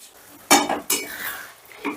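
A spoon knocks and scrapes against a pan while yogurt for paneer do pyaza is mixed: a few close metallic clinks and clatters in quick bursts, loud against a quiet background.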